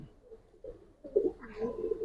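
Pigeons of an old Army-derived breed coo softly in low, throaty phrases that build toward the end of the short stretch, close by, with no talking.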